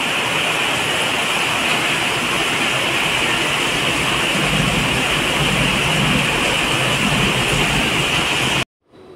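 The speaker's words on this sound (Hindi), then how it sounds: "यहाँ पर इस कदर की काफ़ी तेज़ की बारिश होने लगी है" Heavy rain pours down in Delhi as a loud, dense, constant hiss and roar close by, with no talking, cutting off abruptly just before the end.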